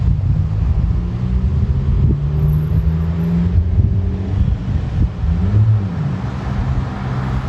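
A 2020 Honda Civic Si with a MAPerformance street exhaust gives off a steady, loud low-pitched drone with some rising and falling engine tones, heard from nearby under blustery wind buffeting, with no talk.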